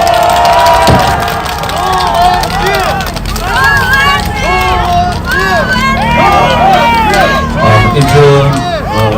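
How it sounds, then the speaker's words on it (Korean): A crowd cheers and shouts at a presidential candidate's press conference in Songdo International City, Incheon, a loud, continuous mass of whoops and excited calls with a low rumble underneath. "큰 박수로 맞아주시기 바랍니다"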